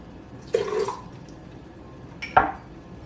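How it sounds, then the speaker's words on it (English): Water poured into a Vitamix blender jar holding breakfast ingredients: two brief, close splashing bursts about two seconds apart, the second sharper, over a quiet kitchen background. "Add a little bit of water."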